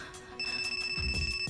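A phone in a horror film rings with a brief, faint electronic tone, a steady trilling pattern lasting about a second with low rumbling beneath it.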